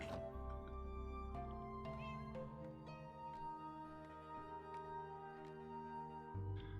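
Cats meow repeatedly in a video game, their cries rising over a steady bed of background music and ambient sound with no talking.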